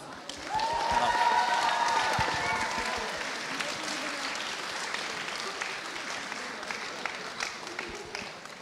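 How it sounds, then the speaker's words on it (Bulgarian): Audience applause for a cosplay group at an awards ceremony, a crowd clapping in a sustained, moderately distant wash, with voices and a brief tonal sound over the first few seconds before the clapping continues alone. "така че отново аплодисменти"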